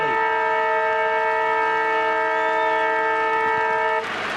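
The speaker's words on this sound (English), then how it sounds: "That's the siren to win the third quarter." A siren sounds at the end of the third quarter of a 1985 Australian football preliminary final between Hawthorn and Footscray. It is a loud, steady, multi-toned blare over crowd noise and stops sharply near the end.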